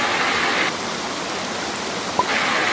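Uriwari waterfall in Fukui prefecture pours steadily, a close, loud broadband rush of falling water with no voices.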